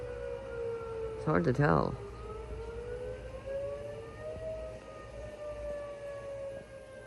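An outdoor warning civil defense siren during a First Thursday monthly test sounds as a distant, steady wailing tone that slowly rises and falls over the whole stretch, under background noise, with a brief burst of nearby talking early on.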